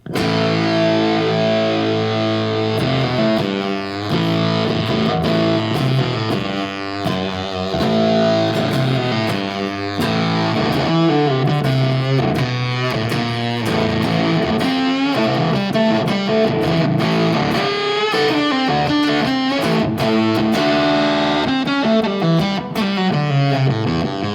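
An electric guitar runs through a fuzz pedal, playing thick, heavily distorted chords and riffs continuously with no talking.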